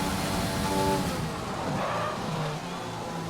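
A GP2 race car on a wet track at the Austrian Grand Prix, its engine droning steadily as the brakes lock up with a brief tyre skid midway, heard at moderate distance and fairly faint.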